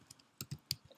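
Several quick, crisp clicks from a computer keyboard, spaced irregularly in a short burst of typing, close and quiet, with no voices.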